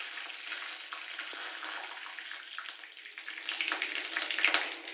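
Curry leaves dropped into hot oil with a cinnamon piece in a pan, a continuous hissing sizzle that swells louder toward the end, close and without talk.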